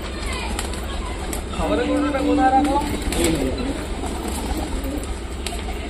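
Pigeons coo softly indoors in short, low, throaty bursts, heard under someone talking nearby.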